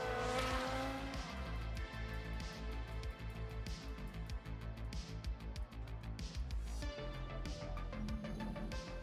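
Formula One car spinning out in the F1 Manager 22 racing game: a loud engine roar with rapid pulsing revs and squealing, skidding tires, ending in a steadier drone as the car recovers.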